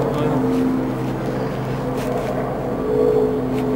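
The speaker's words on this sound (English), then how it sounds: "A lot of traffic." Busy city traffic in Toronto at night, with helicopters overhead: a steady, dense rumble of engines and passing vehicles runs throughout, with low tonal hums and a swell near the end, no talk.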